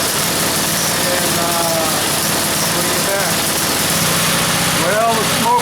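A 1978 Ariens Fairway mower engine, running on an oil-and-gasoline mix through a newly modified carburetor, idles with a loud, steady, close-up drone that barely changes throughout.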